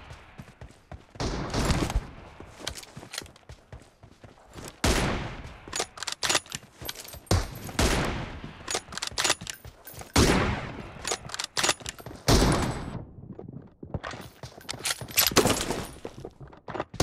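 Rapid bursts of gunfire from a PUBG Mobile team deathmatch, dense crackling volleys repeating in clusters across the whole stretch, loud and close with brief gaps between bursts.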